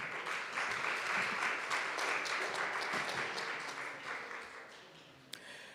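Audience applause at a youth democracy and e-voting event, sustained dense clapping from a crowd that slowly fades toward the end, with no voices over it.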